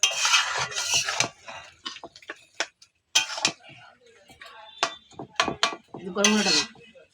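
A spoon stirs and scrapes a shrimp and taro leaf curry in a pan, making irregular metallic clinks and scraping taps near the microphone, in short bursts with brief pauses.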